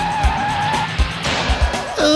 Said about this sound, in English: Monster trucks rev their engines before a race